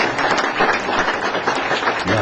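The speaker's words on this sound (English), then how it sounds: "Another round of applause," Applause from the audience at a city council meeting, a steady dense wash of clapping lasting a couple of seconds with no break, the crowd's hands sounding close and fairly loud.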